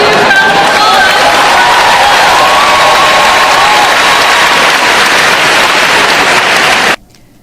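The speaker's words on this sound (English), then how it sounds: "Give her a huge round of applause." A crowd at a convention applauds loudly with dense, continuous clapping that holds steady for several seconds, then cuts off abruptly.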